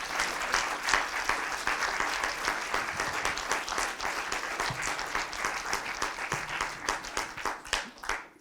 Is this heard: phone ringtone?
no